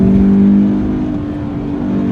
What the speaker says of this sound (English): it begs to be revved out, man, especially on this road